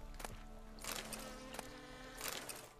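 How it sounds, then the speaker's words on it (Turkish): Flies buzz steadily in a forest area of the video game The Witcher 3: Wild Hunt, a continuous close insect drone with a few louder swells, no talking over it. "Abi her yer sinek sesi ya."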